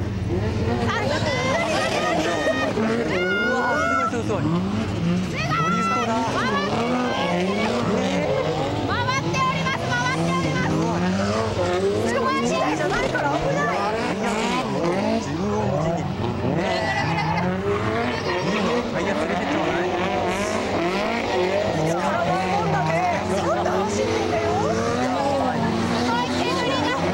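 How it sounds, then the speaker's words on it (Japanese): Cars drift on a drift course at a Tohoku car hobby show's Jimny festival. Engines rev in rising and falling sweeps and tires squeal continuously and loudly throughout. "こちらにはドリフトコースもあるんですよ"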